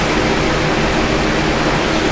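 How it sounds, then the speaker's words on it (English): Heavy rain pouring down outside, a constant loud broadband hiss that stays dense and unbroken throughout, with no voices or other distinct sounds. "It is pouring down rain."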